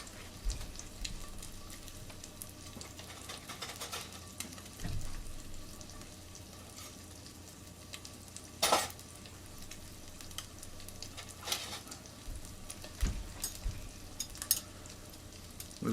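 Eggs and tortillas fry in a single cast iron pan, a soft, steady sizzle close by, broken now and then by sharp clatters and scrapes of a utensil against the pan.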